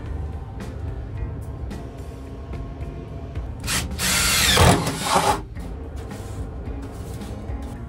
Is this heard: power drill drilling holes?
yes